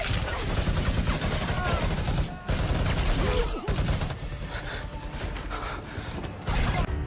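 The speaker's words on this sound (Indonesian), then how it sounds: "Mereka pun langsung membunuh satu persatu tentara di sana dan baku tembak pun terjadi." Gunfire crackles through a film shootout in a forest, dense bursts of shots layered with booms and mechanical clatter, loud and continuous with brief gaps near the middle.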